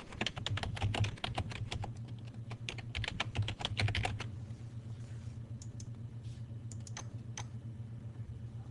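Rapid keystrokes on a computer keyboard while a login and password are typed, a quick close burst of clicks that then thins to a few scattered taps over a low background hum.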